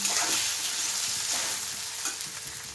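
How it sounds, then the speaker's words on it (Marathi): Soaked sago stirred and sautéed in a hot pan for quick sabudana khichdi, a steady close sizzle with soft scraping stirs throughout, no voices. "भिजवलेला साबुदाणा मिक्स करूया आणि तो परतून घेऊया"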